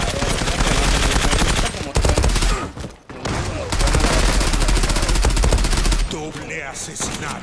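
Suppressed P90 submachine gun in the online shooter Zula, long rapid bursts of muffled clattering fire with brief pauses, heard up close and loud, a voice speaking underneath.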